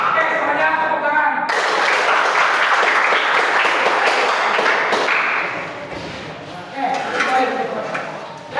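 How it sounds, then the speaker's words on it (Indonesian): A class of students applauding together in a physical education lesson, a dense, sustained wash of clapping that thins out toward the end, with a brief swell of claps returning near the close. "Oke, semuanya tepuk tangan."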